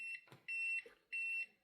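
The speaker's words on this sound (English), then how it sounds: "you can just click this button and they'll start beeping" Lefant robotic vacuum cleaner sounding its find-robot alert: two sustained high electronic beeps, each lasting about a third of a second, separated by a short gap, with a brief thump and faint background noise between them.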